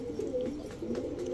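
Female Bagha Musaldam pigeon cooing steadily in low, soft, continuous tones, fairly quiet and close, with no talking.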